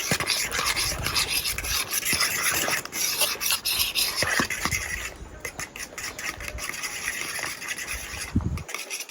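Spoon stirring flour into a no-knead camping bread dough in a bowl, a steady scraping rasp with uneven rhythm, close and moderately loud, no talk.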